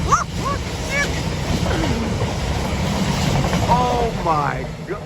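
Fast train rushing past in England, a steady close rumble and rattle of rail cars with excited voices calling out over it.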